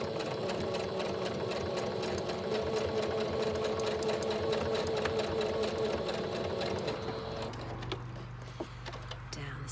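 A sewing machine quilts across fabric with a fast, continuous mechanical chatter that runs steadily for most of the stretch, then stops, leaving a low hum near the end.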